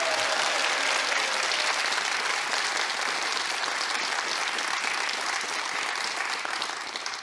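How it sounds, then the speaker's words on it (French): A studio audience at a French television show breaks into a thunder of sustained applause for a guest named Katia, loud and even from start to finish before easing slightly at the close. "Un tonnerre d'applaudissements à Katia"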